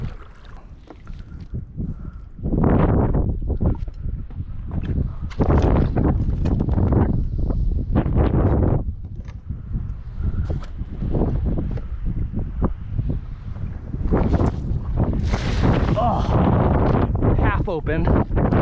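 Wind gusting hard across a microphone on a small boat out on open water while fishing for mullet, a loud steady rumble with buffeting bursts and a person talking over it.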